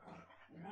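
Playful dogs give a brief burst of barking and growling indoors in the middle of the night, loud and close, with no voices.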